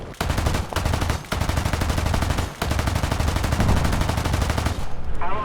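Machine guns rattle in War Thunder tank combat, firing long rapid bursts in a fast even rhythm, loud and close, broken by a few brief gaps.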